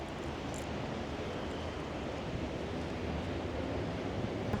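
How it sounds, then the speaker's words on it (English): A large volume of water gushes out of a structure in rural southern Spain, a continuous roaring rush of broadband noise heard from some distance, steady with slight swells. "there is so much water piling out of this thing"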